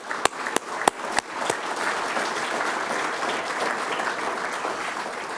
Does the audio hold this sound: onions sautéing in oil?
no